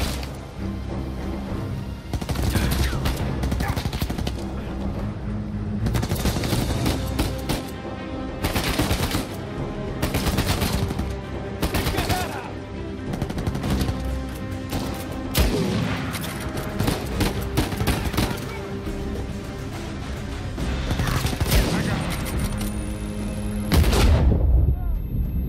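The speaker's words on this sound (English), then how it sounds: "Is that a grenade launcher?" Video game Uncharted 4 combat: dense bursts of automatic gunfire and heavy booms, loud and close, with repeated volleys, brief lulls, and a voice talking at times.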